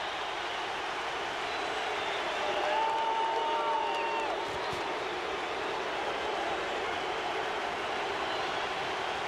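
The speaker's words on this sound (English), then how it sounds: "The crowd has returned." Crowd in a baseball stadium, a steady, distant wash of cheering and murmuring voices that swells slightly partway through and stays at an even, moderate level throughout.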